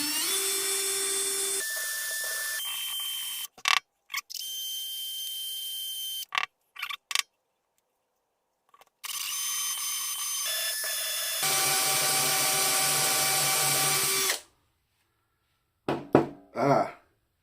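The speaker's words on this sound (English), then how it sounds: "We'll take a drill." A small drill works on the sticky flint of a Christian Dior lighter, whining in several separate high-pitched bursts broken by silences and brief clicks and knocks.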